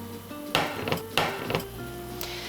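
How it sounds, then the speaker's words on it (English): A frying pan with oil is shifted around on a stove, giving several close knocks and clanks of metal on the burner in quick succession, followed by a low hum. "So I kinda like to move the pan around so we get that oil dispersed all over the pan."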